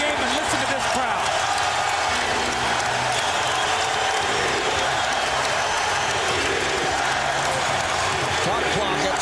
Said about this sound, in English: They are back in the game, and listen to this crowd.